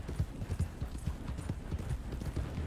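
John Marston's horse in a western video game clip-clops along at a steady walking rhythm, its hooves close and distinct with no talk over them.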